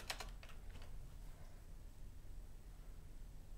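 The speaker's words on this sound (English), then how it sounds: "Creepy Jacket Man is typing" Soft, faint keyboard typing from a chat app, a quick flurry of clicky keystrokes at the start that trails off into quiet background hiss.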